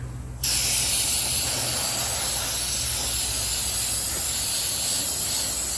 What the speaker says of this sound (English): let's spray down the tank so nothing goes into the tank